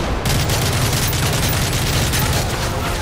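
Dense, continuous gunfire from the video game Call of Duty Modern Warfare 3, a loud sustained fusillade of rapid shots with heavy booming low end, filling the clip without a break and no talking.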